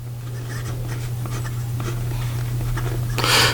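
A Visconti Medici Il Magnifico fountain pen with a medium 23-karat palladium nib writes on paper, its faint scratching strokes sitting over a steady low electrical hum, with a brief louder rustle near the end.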